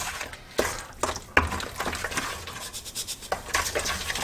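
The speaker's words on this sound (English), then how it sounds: "Gently give it a stir in. Yep, stir it in." Pumpkin pie filling being stirred after sugar and spice mixture goes in: a spoon scrapes and taps against a bowl in an uneven rhythm, with soft clinks and wet patter close by.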